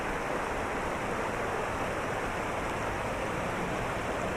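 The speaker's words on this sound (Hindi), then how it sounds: "यहाँ पे पानी की स्पीड देखें आप, किस कदर तेज़ी से पानी जा रहा है जी" Flash-flood water rushes fast through a channel during rain near Ziarat in Baluchistan. It makes a steady, loud, unbroken roar that fills the whole clip, with no voices.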